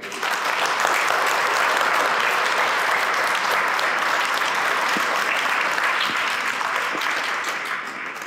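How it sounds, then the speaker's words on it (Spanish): A church wedding congregation applauds the newly married couple, a steady, dense round of clapping that holds for about eight seconds and tapers off slightly at the end. "Los felicitamos con un aplauso"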